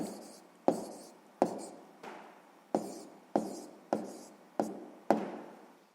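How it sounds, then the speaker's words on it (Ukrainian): A pen writes numbers by hand on paper for a Ukrainian sixth-grade maths exercise: eight sharp taps, each starting a stroke that scratches and fades, spaced about two-thirds of a second apart, close and alone. "Я запишу число, яке ми отримали."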